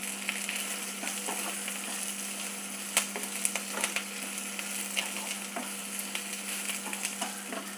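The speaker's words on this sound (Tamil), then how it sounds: "நல்லா எண்ணெயில் நல்லா வதங்கிடுத்து கொஞ்சம் கருவேப்பிலையெல்லாம் இப்படி கொஞ்சம் கிறிஸ்டி ஆகிடுது" Curry leaves crisping in hot oil give a steady, dense crackling sizzle with scattered sharper pops, close and even throughout, with no voices.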